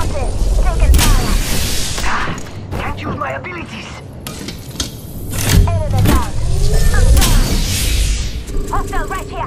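Gunfire in a shooter video game arrives in scattered bursts and sharp shots mixed with mechanical clatter and engine-like rumble, at moderate loudness, with game voice callouts over the action.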